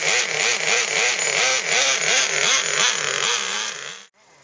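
A Traxxas T-Maxx nitro RC monster truck engine screams close by, its pitch wavering rapidly up and down in repeated revs before cutting off abruptly near the end.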